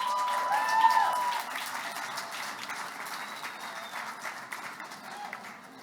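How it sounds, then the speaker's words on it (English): Audience applause at a Toastmasters International board of directors meeting, a broad wash of clapping from a room of people that starts fuller and slowly thins and fades over several seconds, with a brief whistle-like tone near the start. "I thought you clapped."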